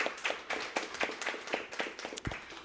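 Scattered audience clapping in an indoor hall at the opening of a virtual exhibition, a handful of hands patting out uneven, fairly close claps for about three seconds with no talking.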